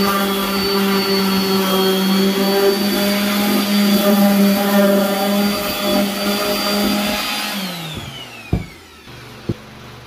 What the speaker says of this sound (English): I'm going to give it a nice quick sand.